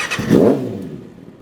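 Kawasaki ZX-6R 636 2019 sport motorcycle starting up, a short cranking burst swelling into a brief roar that settles back toward a lower idle.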